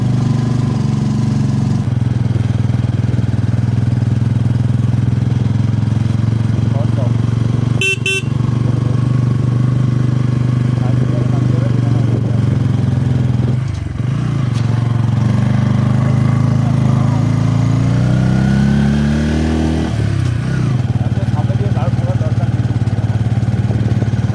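A motorcycle engine pulls up a hill road near Kurseong in first gear, a loud, steady, close drone with rising and falling revs, a brief horn toot, and voices talking over it.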